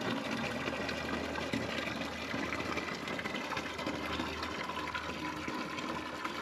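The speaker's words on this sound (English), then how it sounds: "Both quarts should pretty much fill the radiator." Water runs steadily into the radiator of a 1927 Ford Model T speedster, a continuous close gushing and trickling fill with no talk.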